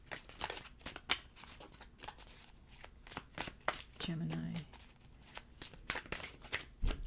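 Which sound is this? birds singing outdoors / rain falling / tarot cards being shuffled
tarot cards being shuffled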